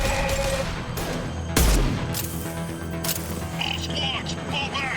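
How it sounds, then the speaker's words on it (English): In the Mass Effect Legendary Edition video game, a single loud, punchy impact shot is fired during a battle, standing out from ongoing combat noise, with voices talking around it. "Firing an impact shot."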